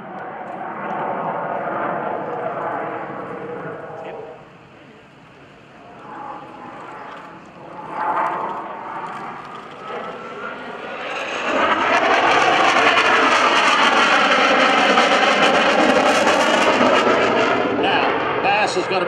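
F/A-18C Hornet jet flying a demonstration at the 2011 Boston Portsmouth airshow, a broad roaring engine rumble that swells into a loud, sustained blast as it passes close.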